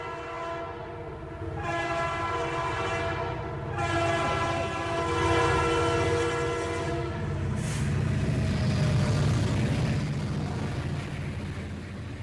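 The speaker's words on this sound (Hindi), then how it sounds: "गाड़ी नंबर 6627 चेन्नई से मंगलूर तक जाने वाली वेस्ट कोस्ट एक्सप्रेस थोड़ी ही देर में प्लेटफॉर्म नंबर 1 पर आएगी" The West Coast Express train pulls into a station platform with a steady loud rumble and rolling wheel noise, a sustained horn blaring over it throughout.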